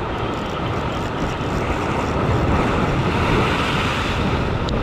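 Ocean waves break on the shore in a steady, loud rush of surf mixed with heavy wind noise, with no pauses.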